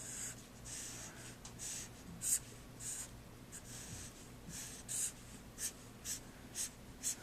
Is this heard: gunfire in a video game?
no